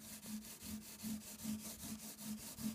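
Fine Scotch-Brite pad rubbed back and forth along guitar frets and fingerboard, a steady rhythmic scrubbing of about seven close strokes with no talk.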